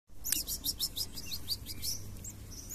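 A shiny cowbird chick in a thrush nest chirps in a quick run of thin, high peeps, then slower scattered calls, fairly faint against a steady outdoor hiss.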